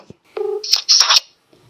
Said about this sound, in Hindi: तो मैंने उठा लिया अपना मोबाइल फोन और मैं उनको लगा रहा हूं सीधा फोन